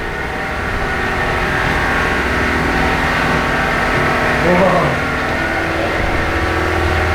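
A water-powered engine turns the main shaft driving a mill's machinery, producing a steady, continuous mechanical drone with humming tones. Faint voices can be heard briefly.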